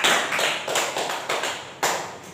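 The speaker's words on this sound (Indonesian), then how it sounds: "Beri tepuk tangan untuk Mbak Fel" Fourth-grade students in a classroom clap together in a rhythmic unison pattern, about seven sharp, even bursts of applause in quick succession with no talking.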